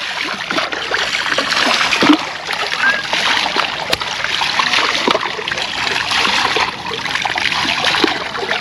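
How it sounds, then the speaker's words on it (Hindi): Water is splashed and poured with a mug while bathing in a river in summer: loud, close, continuous splashing over the steady rush of flowing water. "नदी में मग्गा मग्गा नहा रही है।"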